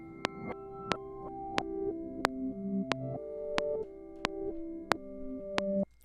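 Reversed audio sample playing back in Ableton, with sustained tonal chords swelling in and cutting off abruptly while sharp regular clicks tick through, no voices.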